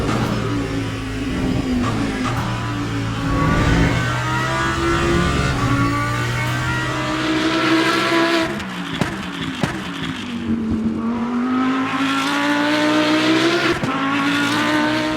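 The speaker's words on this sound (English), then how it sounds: "The awesome V10 sound speaks for itself" V10 mid-engine GT3 race car in the Le Mans Ultimate racing game, its engine note steady and loud throughout, rising and falling in pitch through gear changes with a brief dip near the middle.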